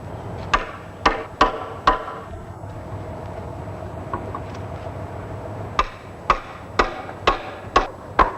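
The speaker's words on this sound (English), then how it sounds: "the sprouts can be removed with a hammer driven up to the full thickness of the ladder rail" A hammer drives wooden rungs into the rail of a traditional handmade fruit ladder: sharp, ringing wooden knocks, first in a quick cluster of four, then after a pause a second run of about seven evenly spaced blows.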